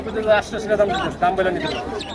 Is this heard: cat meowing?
no